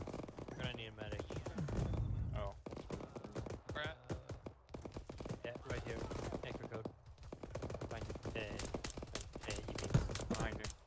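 Dense gunfire from an Arma 3 combined-arms firefight, rapid overlapping bursts and shots rattling continuously near and far, with voices talking over the shooting throughout.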